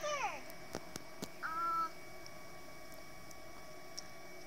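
Crows caw outdoors, a couple of clear calls near the start and another around the middle of the clip, over a steady background hum with a few faint ticks.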